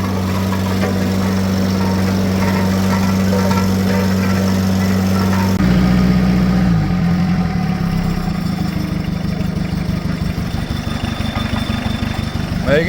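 An old compactor machine packs gravel, its engine a loud, steady low drone with a rhythmic thumping pulse that sets in partway through and continues throughout.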